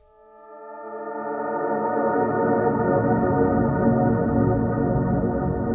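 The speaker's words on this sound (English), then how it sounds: "I'm using pitch shifting to create an octave lower" Sustained tonal pad blended with a pitch-shifted copy an octave below through a delay plugin, fading in over the first two seconds and then holding steady as a warm, layered drone.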